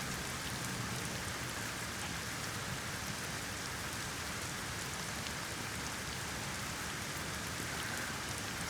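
Rain in The Medium video game falls as a steady, even hiss of drops that never changes, heard alone without voices.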